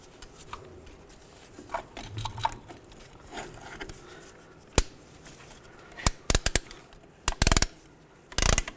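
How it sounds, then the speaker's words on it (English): A caliper compressor tool pushes brake caliper pistons back on a 2005-15 Nissan Xterra, first with soft creaks and rubbing, then with sharp ratcheting clicks and metallic snaps coming in short clusters up close. "And nice and slow, compress the caliper."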